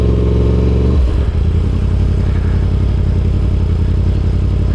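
A Yamaha R1 sport motorcycle being ridden, its engine a loud, dense roar that shifts pitch about a second in, then holds a steady droning run with wind rush, close and without voices.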